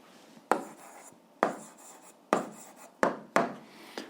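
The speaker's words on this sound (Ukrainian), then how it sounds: "Ну, а зараз записуємо відповідь. Пишемо відповідь." Pen strokes writing down an answer to a school physics exercise: five separate, crisp scratchy strokes at an uneven pace, close and clear, with quiet pauses between and no voices.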